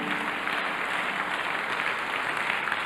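A church congregation applauding in praise during a sermon, a dense, continuous roar of many hands clapping at close range that holds steady throughout.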